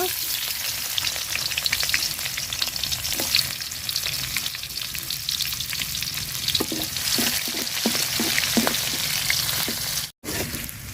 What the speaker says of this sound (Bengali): পেঁয়াজটা লাল লাল করে ভাজা নিছি।